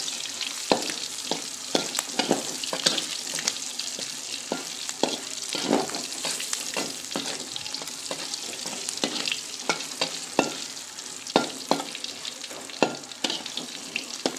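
Grasshoppers fry in hot oil with a loud, continuous crackling sizzle, studded with sharp pops and spits throughout.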